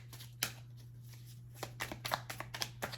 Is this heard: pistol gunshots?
no